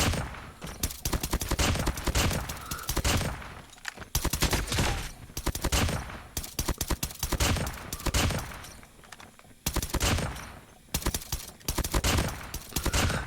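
Rapid bursts of gunfire from an M1 Garand rifle in the COD Mobile video game, loud and close, coming in repeated volleys of quick shots separated by brief pauses.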